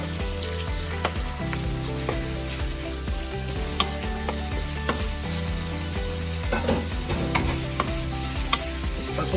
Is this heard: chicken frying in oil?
yes